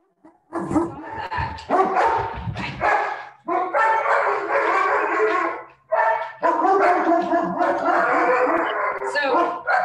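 Several dogs bark loudly and repeatedly in a home, with overlapping, sustained yapping and howling bursts close by, filling most of the stretch.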